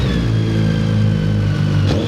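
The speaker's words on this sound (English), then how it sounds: "We can give it a little rev or two." A BMW K1300 GT sport-tourer motorcycle engine runs loud and close with a steady, smooth mid-pitched roar that holds a constant drone before a quick blip near the end.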